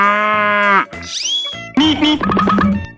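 Cartoonish cow moo from a 3D animal slide video game, a long tonal call followed by springy boing effects and bright game sound effects, loud and close.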